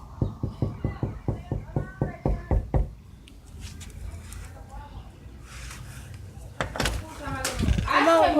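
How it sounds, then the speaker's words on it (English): Knocking on a house door: about a dozen quick, evenly spaced loud raps over three seconds, then quieter background with people talking afterward. "I'm gonna knock on the door."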